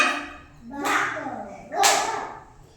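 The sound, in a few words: clapping for a child in an anganwadi class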